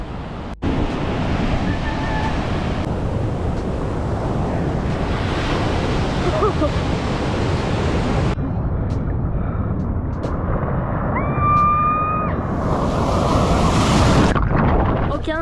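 Steady roar of ocean surf breaking on a Los Angeles beach, heavy with wind buffeting the microphone, with brief faint voices in the background.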